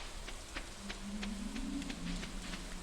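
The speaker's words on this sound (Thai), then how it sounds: "ฝนตกอย่างนี้นะครับ" Rain in the farming video game Stardew Valley patters as a soft, steady, quiet hiss with faint scattered drops and no talk.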